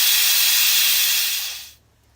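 An Instant Pot releasing pressure gives a loud, close, continuous hiss of steam that holds steady and then tapers off and stops, with the vent partly covered indoors.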